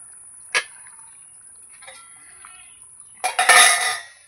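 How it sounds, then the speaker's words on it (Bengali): Lid lifted off a pot of cooking chicken, a sharp metallic clink early on, then a clattering scrape and rattle of metal near the end, close and fairly loud against a quiet background. "এই যে ঢাকনাটা তুলে দেখব।"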